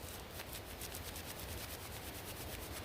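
Plant material is ground by hand into fine tinder, giving a soft, continuous rapid rubbing and scraping, faint and steady without talk.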